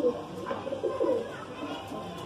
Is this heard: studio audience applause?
no